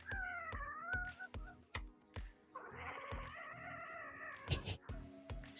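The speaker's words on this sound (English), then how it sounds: "She's such a happy cat." A domestic cat vocalizes in a string of close, drawn-out meows and chirps, some rising and falling, over a steady rhythmic ticking in the background.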